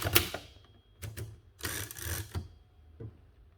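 Keys striking on a 1914 Seidel & Naumann Erika Model 3 foldable typewriter, a few sharp mechanical clacks followed by a dense rattling burst and a final lone strike, close and clear.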